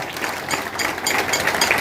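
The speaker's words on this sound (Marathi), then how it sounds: "त्यांच्यासाठी जोरदार टाळ्या वाजवा" An audience at a rural watershed programme event in Jat, Sangli applauds, a steady rush of many hands clapping together, moderately loud and continuous.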